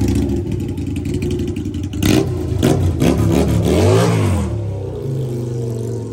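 An engine revs up sharply several times, rising and falling in pitch with loud mechanical whine, then settles back to a lower idle.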